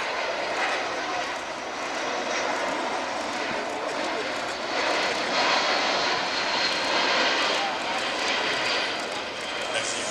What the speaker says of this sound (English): In case you're wondering how big the C-17 is, the wingspan is roughly 170 feet